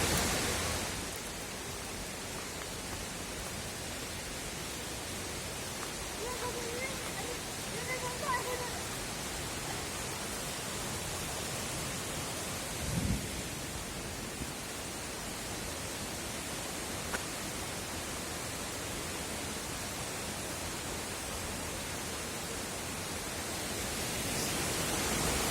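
Cascade des Tuffes, a large waterfall in the French Jura, roars as a steady, dense wash of rushing water that stays level throughout, with no clear voices above it.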